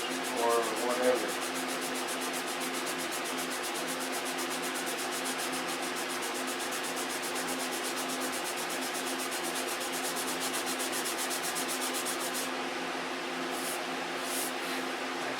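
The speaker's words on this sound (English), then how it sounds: "I've sanded that out pretty good now." Steady hand sanding of a model aircraft part, a continuous soft abrasive rubbing that runs close and even throughout with no talk over it.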